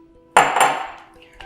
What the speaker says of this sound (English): All we're going to do is we're going to mix them together. So the double cream in with the eggs.